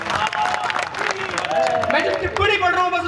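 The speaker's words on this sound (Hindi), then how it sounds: "एक बार तालियां बजाएं जरा जोरदार हाथों को सबके लिए।" Applause from the crowd at a Hindu New Year poetry recital in Kota, Rajasthan. The clapping runs through the whole stretch beneath a loud speaking voice that dominates the foreground.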